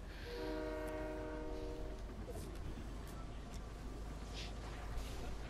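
A train moving through a Fortnite match sounds its horn in a chord of sustained tones, then keeps rumbling along with rattling carriage noise and faint game effects.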